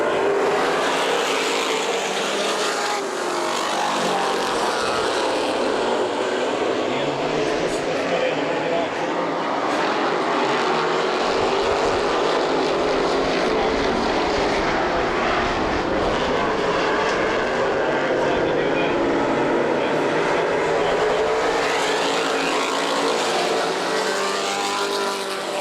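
Super stock race cars roar continuously as the field goes green at Perris Auto Speedway, a dense, loud engine din that lasts the whole time while a commentator talks over it.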